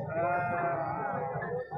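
A goat bleats at a livestock market selling goats for Qurbani, one drawn-out nasal bleat, moderately close but fairly quiet over a low background murmur.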